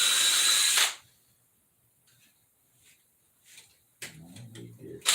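A power drill whines loudly for under a second and then stops, followed by quiet handling sounds and a few scraping, clattering knocks in a workshop setting.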